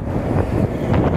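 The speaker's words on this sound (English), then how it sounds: "Sorry it's so windy." Strong gusts buffet the microphone outdoors on a windy day, a loud, continuous low rumble with fluttering bursts and no one speaking.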